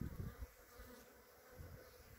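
Honeybees fly around busy beehives in a coriander field on a cool 13-degree day. A soft, steady buzzing swarm hums throughout with a few low thumps, faint and with no voices.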